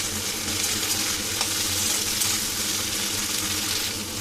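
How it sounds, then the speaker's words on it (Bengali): Potatoes and cut yardlong beans fry in oil in a pan for a Bengali fish chorchori, with a dense, even, close sizzle that holds at a steady level throughout without talk. "এবার এই বরবটিগুলো কেটে রেখেছে সেটা দিয়ে দেবো। দিয়ে এটাকেও একটু ভেজে নেব।"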